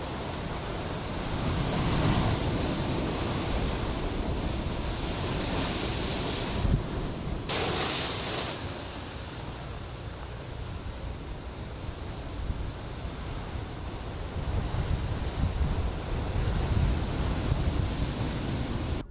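Ocean waves washing beneath a California wharf, a broad steady surf roar with wind noise, rising and easing in slow surges throughout.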